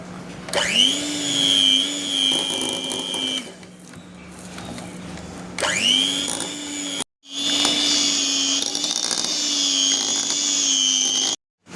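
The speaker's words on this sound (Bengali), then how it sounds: "এবার আমি এটাকে বিট করে নেবো বিটার দিয়ে।" An electric hand beater whirs through a brownie mixture of melted butter and eggs in loud bursts, starting with a rising whine, pausing, then running again in a longer steady stretch before cutting off.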